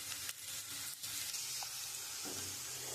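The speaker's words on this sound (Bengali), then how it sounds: "আমার আলুটা ভাজা ভাজা হয়ে এসছে।" Potatoes sizzle in oil in a pan as a quiet, steady frying hiss with a couple of light knocks, heard up close with no voices.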